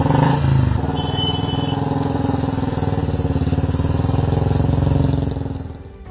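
A Royal Enfield motorcycle weighing about 180 kg runs steadily at idle close by, with an even low thumping throb that fades slightly at the end.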